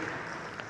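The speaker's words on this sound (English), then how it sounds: "a round of applause" An audience at a zero-carbon forum applauds in a brief, even wash of clapping, soft and slightly distant.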